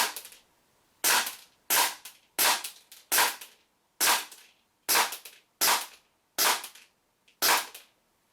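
A WE Glock 19 Gen 5 airsoft pistol powered by green gas fires 0.2 gram BBs, ten sharp, loud single cracks spaced roughly evenly about three-quarters of a second apart, each with a brief decay and quiet between.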